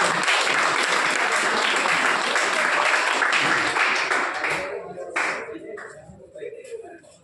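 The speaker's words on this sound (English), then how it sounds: "Give a big round of applause." A workshop audience applauds as a guest speaker is called to the stage to receive a gift, dense steady clapping that holds strongly for about five seconds before thinning out and fading.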